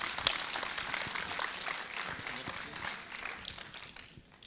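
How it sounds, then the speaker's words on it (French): An audience at an evening history lecture claps for the speaker being introduced, a dense patter of many hands that starts fairly strong and gradually thins and fades out. "notre intervenant, Patrick Richet, que je vous demande d'applaudir."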